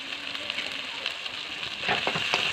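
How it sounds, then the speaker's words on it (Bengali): Chilli powder, cumin powder and salt frying in a pan with vegetables for a Bengali fish and cauliflower curry, a steady close sizzle with soft scraping stirs that thicken toward the end, no talking. "জিনিসটাকে ভালো করে নেড়ে কষাবো।"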